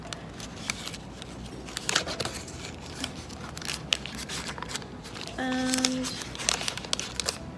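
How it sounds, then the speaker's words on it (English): Crinkly plastic wrapper of a dark chocolate caramel wafer biscuit being torn open and unwrapped by hand, close and fairly quiet, with rustling and crackling bursts and a brief word spoken partway through. "just going to unwrap it"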